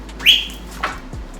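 A couple of bright bird chirps and short whistled calls, close by, separated by brief gaps over a faint background hum.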